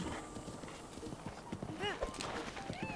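A horse trots with clip-clopping hooves in the video game Zelda Breath of the Wild. The hoofbeats are quick and rhythmic, with a brief whinny mixed in, under someone talking over the game sound.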